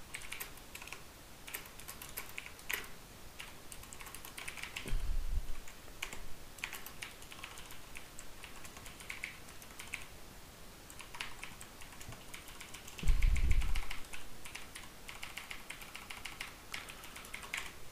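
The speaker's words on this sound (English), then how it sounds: "Let me quickly type it and explain later." Steady computer keyboard typing while entering program code for a chess game, with quick key clicks throughout and two brief heavier thumps, close and alone with no talk.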